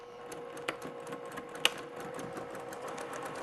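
A sewing machine back-stitches a luggage tag, whirring steadily with fast needle ticks and a sharp click partway through, close and fairly quiet with no voices.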